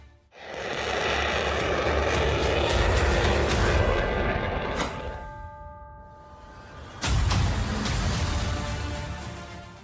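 A B-2 Spirit stealth bomber roars past with a loud, sustained jet rumble that swells and fades, then a second loud surge of engine noise follows after a brief lull.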